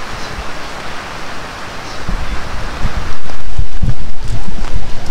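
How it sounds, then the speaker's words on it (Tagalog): Strong wind on a rainy day, a broad roaring rush that blusters and buffets the microphone, growing louder and gustier in the second half. "malakas ang hangin"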